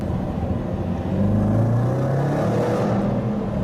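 A Range Rover Sport SVR engine revs and rumbles steadily with a rising then falling drone, loud and close, with no crackle standing out clearly.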